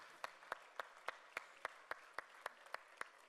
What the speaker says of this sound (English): please give them a great applause